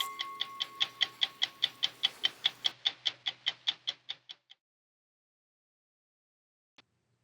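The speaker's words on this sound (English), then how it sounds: "we're suckers for the evocative sound of a classic mechanical timepiece" Classic mechanical clock ticking in a crisp, even rhythm of about twenty clear ticks that slow slightly and stop, followed by silence and one faint final tick.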